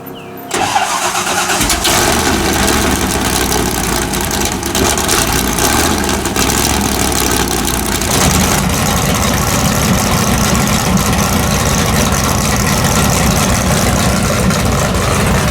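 Custom garage-built car engine cranks and fires up, then settles into a loud, steady rough idle with a deeper lumpy rumble after about eight seconds, close by, with no voices.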